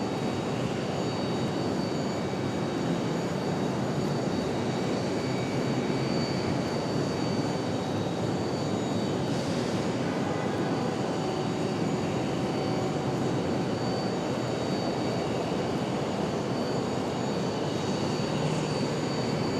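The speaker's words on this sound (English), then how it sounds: "Here comes U.S. Airways," US Airways airliner in special livery at Raleigh-Durham International Airport, a steady broadband jet engine roar held throughout, no voices.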